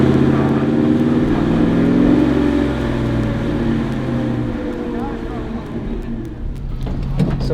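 An International Scout 4x4 crawling over rocks on a Southern California trail, its engine droning and rising nearby beneath people talking.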